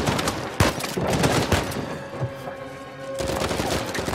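Gunfire in the video game Uncharted 4, a sniper rifle among it: dense overlapping shots and bursts with sharp cracks near 0.6 and 1.5 seconds, loud and continuous throughout.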